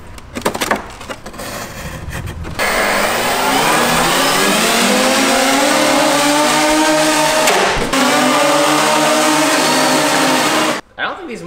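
Small electric motors on an RC Avengers Quinjet model airplane spin up from handling noise into a loud, steady whine with shifting harmonic tones, holding for about eight seconds before cutting off abruptly.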